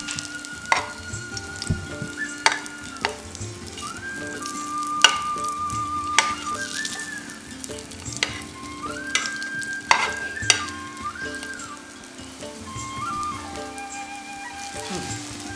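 Mixed vegetables for kebabs sautéed in a pan, with a steady close sizzle, sharp clinks of a spoon against the pan at irregular intervals, and a faint voice talking in the background.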